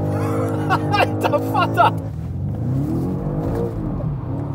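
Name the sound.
BMW M5 and Audi RS7 cars drifting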